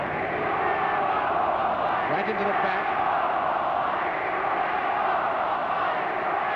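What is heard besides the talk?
football crowd chanting "We want football"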